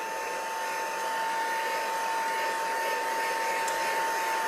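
Heat tool blasting a steady, even stream of hot air to dry heavy ink on a stamped card, a continuous close hum-whoosh with a fixed tonal whine throughout, no pauses or voices.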